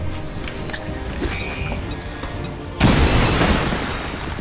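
Grenade explosion in the video game XCOM 2, a sudden loud boom that bursts in partway through and rumbles on for a couple of seconds over low game ambience.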